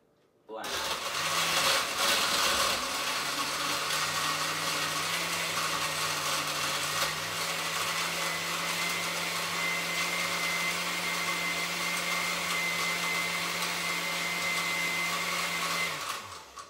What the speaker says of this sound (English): Now you're gonna turn it on low and on blend.